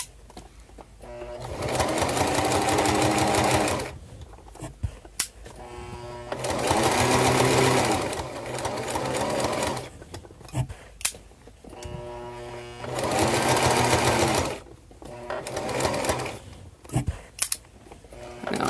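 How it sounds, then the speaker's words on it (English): A sewing machine sews along a folded edge of fabric in several long, steady runs with short stops between them, loud and close, with faint handling knocks in the pauses. "I'm sewing right down here where the fold is at."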